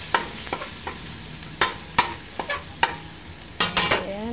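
Garlic sizzles in a pan for chicken estofado, with a steady frying hiss under a series of sharp stirring clacks and scrapes of a utensil against the pan, close and fairly loud.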